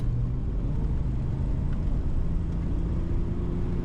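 Heard from the cabin, a Jaguar XJ12 Daimler saloon accelerates on kickdown, its V12 giving a sustained low hum and whir over steady road rumble, with nobody speaking.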